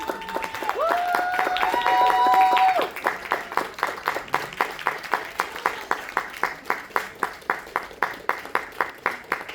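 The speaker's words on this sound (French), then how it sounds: "et les applaudissements." Applause at a cosplay contest award ceremony starts as scattered clapping under an announcer's amplified voice and a short fanfare. It then settles into a slow, steady rhythmic clap in unison from the crowd.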